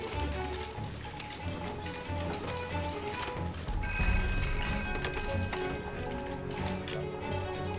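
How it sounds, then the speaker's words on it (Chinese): A telephone rings with a steady electronic trill that starts partway through and continues over background music. "您的电话"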